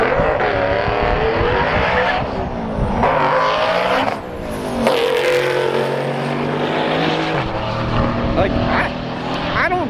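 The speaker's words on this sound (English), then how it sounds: "How about a twin turbo Mercedes." A twin-turbo Mercedes races hard, its engine roaring loud and close with rising and falling revs through gear changes, and a voice talks over it.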